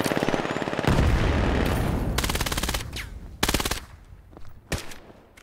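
Automatic gunfire in the tactical shooter Vail during a competitive match: rapid sustained bursts fill the first seconds, then shorter volleys and scattered single shots follow, loud and close with brief gaps between.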